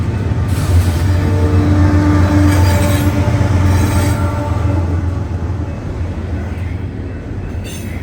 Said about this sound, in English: a train rolls by on Minot's other main line